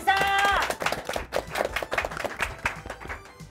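Sparse, scattered hand claps from a small group at the opening of a gaming club broadcast, uneven taps spread across the clip, with a brief tonal sound at the start and speech-like sounds mixed in.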